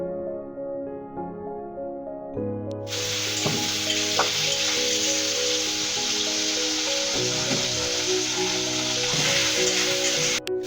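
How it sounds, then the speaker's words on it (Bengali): Koi fish shallow-frying in oil on a low gas flame, giving a continuous close sizzle that grows louder after a couple of seconds and keeps going steadily, with a faint tonal hum underneath. "ওইভাবে হালকা করে আমি বাকি কই মাছগুলাও ভাজা নিই।"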